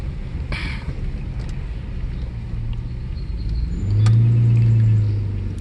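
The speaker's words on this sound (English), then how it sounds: "Because my exhaust is very loud, so I don't really like to drive around often in this car because it's really loud." A Mercedes S600 W140 with a very loud exhaust drives along, its low engine rumble swelling into a deeper, louder drone partway through amid wind and road noise.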